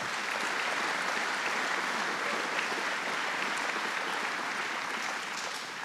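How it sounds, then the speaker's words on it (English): Dense, loud applause from a large audience at a state economic announcement, a steady wash of many hands clapping throughout with no voices on top. "So let's give him a big round of applause."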